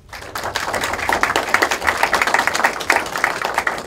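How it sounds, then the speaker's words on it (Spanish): A modest audience at an international law seminar claps in a dense patter that quickly swells and holds for a few seconds, each hand clap distinct and fairly close. "Damos un aplauso al doctor."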